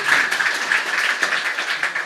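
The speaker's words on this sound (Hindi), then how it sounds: "ताली बजा दोगे प्लीज।" Audience applause at a poetry reading, a steady dense wash of many hands clapping that fills the whole moment at even strength, with no voices over it.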